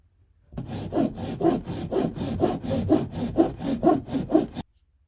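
An old-style sanding block rubbing over wood in a small woodshop gives about ten rhythmic back-and-forth rasping strokes, close and steady, that start and stop abruptly in an otherwise quiet room.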